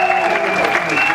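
Audience applause rises at a church investiture of a pastor, a short burst of steady clapping from a crowd in a hall, loud and continuous with voices mixed in.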